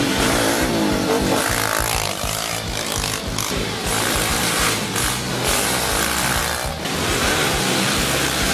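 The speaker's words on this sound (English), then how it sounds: "Check out the action from this weekend's events with a lap of the track." Kawasaki KLX110 mini motorcycles lap a motocross track, their small engines droning loud and constant with rising and falling revs, several bikes blending into one continuous, buzzing roar.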